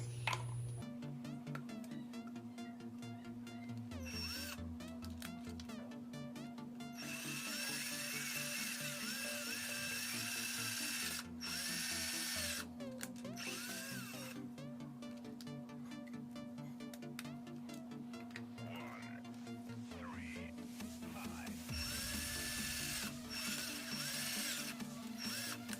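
A Philco PPF02MF electric drill boring into a wall and pipe, a steady whining hum with repeated bursts of high grinding as the bit bites, long and continuous at moderate distance.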